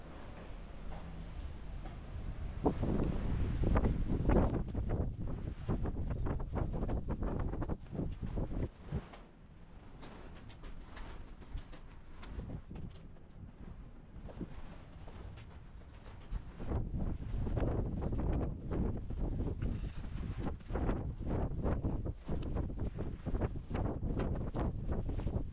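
Strong wind gusts outside at an old prison colony in southern France, buffeting the microphone in heavy roaring bursts. One calmer lull comes midway before the blasts pick up again.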